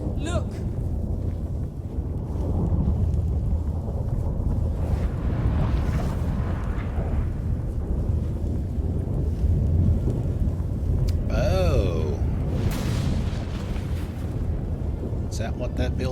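A deep, sustained storm rumble of thunder rolls through a Witcher 3 game scene, swelling and fading under a constant low roar, with a brief higher whooshing burst partway through.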